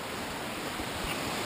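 Heavy water flows at a waterfall in Ricketts Glen, giving a steady, dense roar of broadband rushing. It holds evenly for the whole moment, with no voices.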